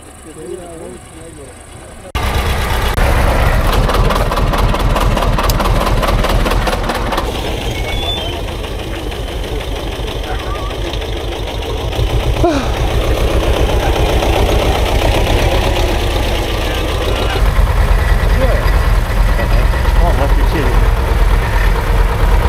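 A stuck tractor's heavy engine kicks in loudly and keeps running with a rough, throbbing chug, rising and falling in strain, while people talk over it.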